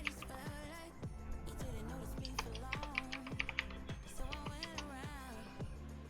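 Fast clattering keystrokes on a computer keyboard, close and steady, with quick irregular bursts of clicks, a little background music, and no speech over them.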